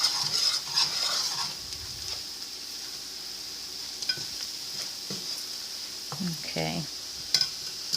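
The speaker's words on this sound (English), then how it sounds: "I'm using a whisk. Get all that flour incorporated in the butter and bacon." A whisk working flour into butter and bacon in a pan, with soft sizzling, scraping, and intermittent metallic clinks against the pan, and a brief voice heard near the end.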